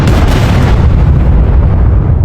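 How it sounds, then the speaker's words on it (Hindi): A deep, roaring blast of a volcanic eruption in Ethiopia rumbles continuously, loud and close, with heavy low-end booming that slowly thins out toward the end. "23 नवंबर को इथियोपिया में एक भयानक वोल्केनो विस्फोट हुआ।"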